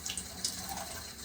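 Water runs steadily from a sink tap during handwashing while hands are rinsed from the wrist down, a soft continuous splash with small spatters, faint and close.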